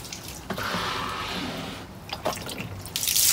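Water splashes and trickles while a rabbit cage is rinsed out during a hutch cleaning, with uneven drips and running flow close by and a louder gush near the end.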